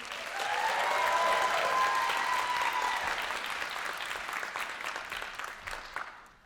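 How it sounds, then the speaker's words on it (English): Audience at a Hawaiian lū'au gives a loud, sustained round of applause for a poi performance group, swelling quickly and then slowly fading over several seconds. "Round of applause for Poi Club"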